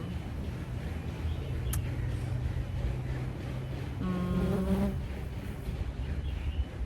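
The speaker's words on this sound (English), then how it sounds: "the bee is like so interested in my tripod" A bee buzzes around a camera tripod outdoors, a faint droning hum that rises and wavers as it passes close for about a second, set against steady outdoor background noise.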